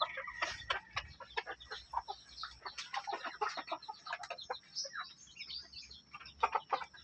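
Upgraded native chickens and chicks in a breeding pen give a dense, continuous mix of clucks and chirps at moderate level, with chicken sounds overlapping throughout.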